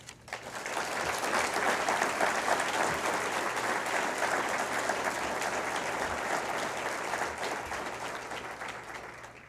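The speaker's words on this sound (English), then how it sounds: "please join me in a well-deserved round of applause for your support." An evening ambassadors celebration audience gives a warm round of applause, dense even clapping that swells in, holds steady for several seconds and fades at the end.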